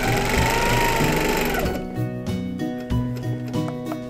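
A sewing machine stitches a quilt during ruler work, running in a fast, loud continuous rattle that stops abruptly partway through, leaving soft clicks and small handling taps.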